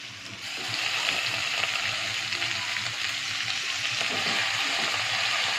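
Fenugreek leaves dropped into a pan of sautéed moong dal, a sizzle swelling after the first second into a steady, fairly loud hiss with faint stirring, no speech.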